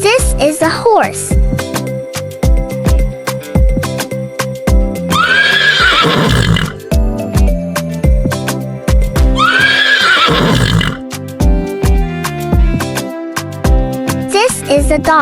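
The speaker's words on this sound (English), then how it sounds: "This is a horse." A horse neighs twice in long, loud whinnies over bouncy children's music with clip-clop beats, and a voice introduces the farm animal.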